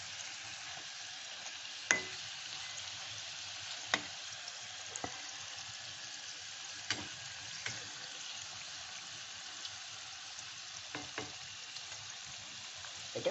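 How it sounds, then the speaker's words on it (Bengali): Labanga latika sweets fry in a little oil in a pan, a faint steady sizzle broken by scattered sharp crackles and pops, with no talking. "আমি একটু ঘুরিয়ে ফিরিয়ে ভাজছি অল্প তেলেই"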